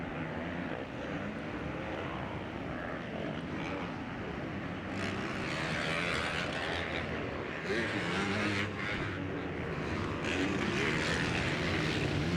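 Several 450 motocross bikes race in a 2019 pro moto at Mammoth, a loud continuous engine roar that swells and fades as riders battle close together, with no break in the noise.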